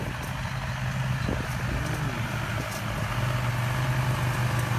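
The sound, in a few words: McCormick X60.30 tractor engine while mowing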